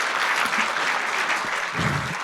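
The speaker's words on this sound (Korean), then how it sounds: "큰 박수로 맞이해 주시면 감사하겠습니다." Audience at an academic symposium applauding to welcome a speaker, a dense, steady wash of clapping that fills the whole moment without voices.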